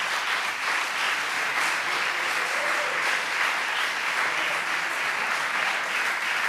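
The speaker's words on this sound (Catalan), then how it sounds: "Aplaudiment, no?, per aquest núvol." Steady audience applause for a word cloud at a Catalan event, many hands clapping in a dense, even wash that holds at the same loudness throughout, with no talk over it.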